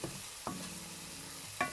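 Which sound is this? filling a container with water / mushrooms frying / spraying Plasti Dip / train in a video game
mushrooms frying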